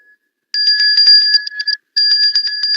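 A bell rings in two quick bursts of rapid, bright strikes with a short gap between, loud and close with no talk around it.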